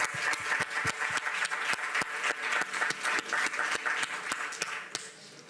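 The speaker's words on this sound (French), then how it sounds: "On applaudit." Press room audience at Cannes clapping, fairly faint but steady, with distinct sharp claps standing out over a dense patter of applause that thins toward the end.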